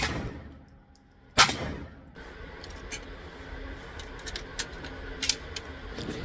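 A Colt 9mm Combat Commander fitted with Wilson Combat parts ejects its magazines: one sharp metallic clack stands out, followed by a scatter of lighter clicks and rattles over a quiet room.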